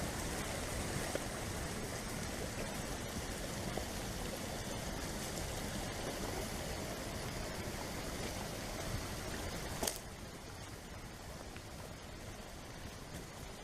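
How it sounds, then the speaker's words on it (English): A forest creek flows steadily between wetlands at Zaleski State Forest, with small waterfalls adding a constant broadband rush and close, continuous trickling. "We've got creeks on both sides of us"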